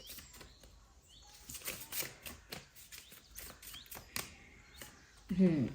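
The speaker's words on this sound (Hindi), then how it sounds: "पहले थोड़ा सा शफल कर लेते हैं अच्छे से" A deck of cards, likely tarot or oracle cards, being shuffled by hand: a run of quick papery riffles and flutters, soft and close, with a voice briefly speaking near the end.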